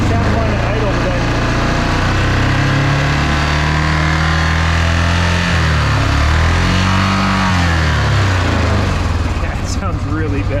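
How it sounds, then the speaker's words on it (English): A Yamaha Rhino 660 UTV engine idling with a suspected clutch fault, a loud close-up drone with steady low throbbing harmonics that dip and waver midway, running continuously without speech. "it sounds like I got some kind of clutch noise or engine noise"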